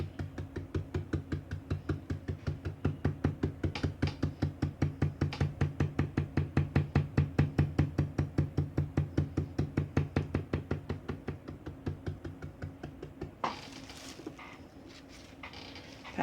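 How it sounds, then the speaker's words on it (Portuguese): A small brush dabs paint through a stencil onto an MDF recipe-book box in a fast, steady run of soft taps close by, dozens in a row, then stops near the end, leaving faint handling noise. "peguei a tinta com um pincelzinho e vou tirar o excesso aqui no paninho e vou vir batendo"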